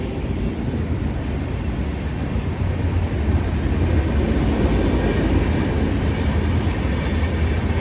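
A train rolling along a railway track close behind a roadside spot in Odisha, a loud continuous rumble and rattle that swells slightly in the second half, with no talk over it.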